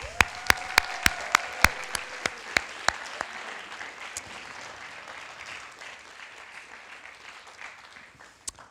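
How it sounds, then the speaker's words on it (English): Graduates at an ISL graduation ceremony receive a final round of applause, starting with a few crisp, distinct claps and spreading into a softer, sustained patter of clapping from the audience. "should we give them a final round of applause?"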